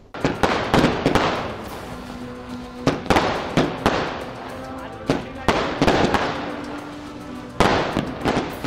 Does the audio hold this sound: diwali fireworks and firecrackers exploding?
yes